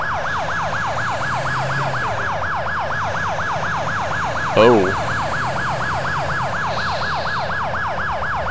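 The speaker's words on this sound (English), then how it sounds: "I'm going to shut that fucking siren off." A fire truck siren wails in a steady rising-and-falling cycle in GTA IV with a fire fighter mod. It stays loud and close for the whole stretch, with a single short exclamation from a man partway through.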